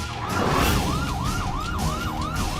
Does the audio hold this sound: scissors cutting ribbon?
no